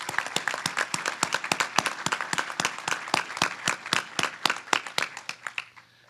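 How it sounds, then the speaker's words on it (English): A banquet audience gives a round of applause for Gulf Island Fab, sparse, distinct claps from a smallish crowd in a steady run that thins out and fades at the end. "we'd owe a little round of applause for Gulf Island Fab"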